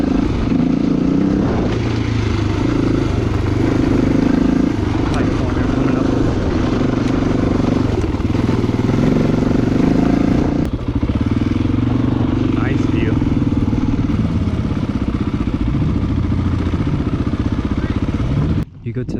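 A Honda XR400 dirt bike ridden along a trail by a beginner rider, its engine droning loudly and steadily throughout with occasional clatter over rough ground, while the rider talks over it.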